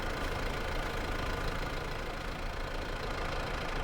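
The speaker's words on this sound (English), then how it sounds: "So this is still quite a heavy old plough for this tractor, because even though it's got weights, it's still wheeling a little bit" Tractor engine in Farming Simulator 22 hauling a heavy old plough with front weights, a steady, dense mechanical drone that stays loud and unbroken throughout without any talk.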